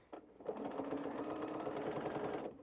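A sewing machine stitches binding through four layers of quilt fabric in a quick, even, close run of needle strokes lasting about two seconds before stopping.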